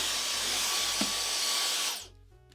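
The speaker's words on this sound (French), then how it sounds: "Ces petits aspirateurs qui sont sans fil, qui sont sur batterie." A Xiaomi G10 cordless, battery-powered vacuum cleaner runs with a loud, steady high whine and airflow hiss while picking up dust indoors, then its motor cuts off and spins down near the end.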